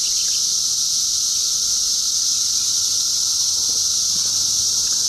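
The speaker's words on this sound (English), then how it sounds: "Cicadas are everywhere." Loud, continuous high-pitched buzzing of many cicadas outdoors, a dense steady drone filling the clip with a few faint knocks underneath.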